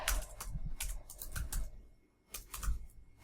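Someone types an IP address on a computer keyboard, with quick clusters of close key clicks, a short pause, then a few more taps.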